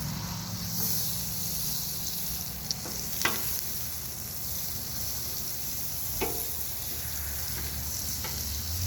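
Steady sizzling and frying hiss of butter and oil on a hot griddle, continuous and moderately loud, with a few faint clicks and taps scattered through.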